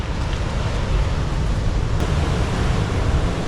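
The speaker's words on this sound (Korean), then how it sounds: "파도 세다 진짜" Strong ocean surf churns steadily at Monterey Bay in California, a loud, continuous roar of breaking waves with wind buffeting the microphone and no voices.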